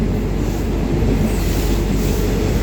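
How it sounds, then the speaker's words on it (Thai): Loud, close roar of a train running along the railway track on the line from Wongwian Yai to Bang Bon, a dense continuous rumble with wheel clatter and no voices. "บรรยากาศด้าน ข้างรางรถไฟนะครับ"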